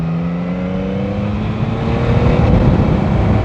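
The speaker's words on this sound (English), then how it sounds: "The 3-cylinder 270 firing rate is perfect." 2022 Yamaha MT09 three-cylinder motorcycle with a 270-degree firing order: a loud, close engine note rising in pitch under acceleration, then a quick shift into a rougher, deeper growl.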